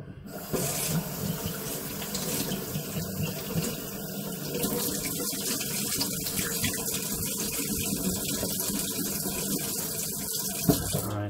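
Tap water runs steadily into a sink as old bottles dug from a dump are washed, a continuous close splashing hiss with faint clinks and almost no talk.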